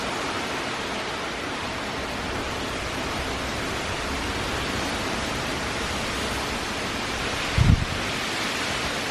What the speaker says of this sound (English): now the wind's blowing straight out of the north, and now I'm getting wet